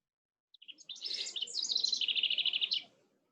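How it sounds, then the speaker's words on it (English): One loud songbird call up close, opening with a few sharp chirps and then a rapid, rising series of bright, evenly spaced warbling notes for about two seconds before stopping abruptly, with nothing else around it. "Oh, it's a bird. Oh, wow. It's a bird. That is one loud bird."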